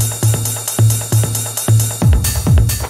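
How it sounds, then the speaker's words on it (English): Hard techno percussion and drums, rhythmic and full, with tight hats and claps over a thudding kick that turns into deeper, pitch-dropping aggressive kicks partway through, loud with no voices. "Percussion and drums is extremely rhythmic and full sounding and aggressive,"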